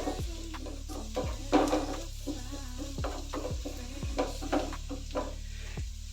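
Capsicum sautéed and stirred continuously in a pan for white sauce pasta, with a soft steady sizzle and repeated scraping strokes of a spoon at a regular rhythm, close and fairly quiet, with no talking.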